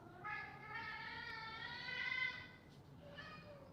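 A black cat gives a long, drawn-out nighttime meow, quiet and somewhat distant, followed by a shorter softer one, over low background noise.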